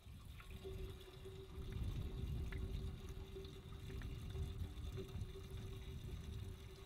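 Fuel poured by hand from a container into the tank of a Baumalight 620D mini skid steer: a steady, quiet, gurgling liquid stream that continues throughout, with no talking.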